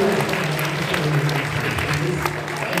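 A crowd at a book convention panel claps for the panelists, a continuous, even wash of applause from a mid-sized audience with some talk mixed in.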